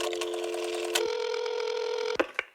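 A voice imitates a rotary phone being dialed, a steady buzzing tone held for about two seconds, then a few short clicks at the end.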